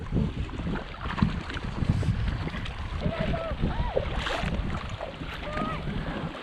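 Kayaks paddled across a deep lake in a race toward a dock, with soft paddle splashes and water movement under steady wind buffeting, while people talk and call out nearby.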